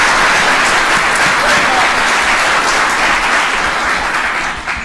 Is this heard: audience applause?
yes